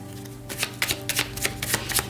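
Playing cards riffle and snap in quick, close bursts during a tarot-style reading, a rapid run of crisp flicks lasting about two seconds with no talking over them.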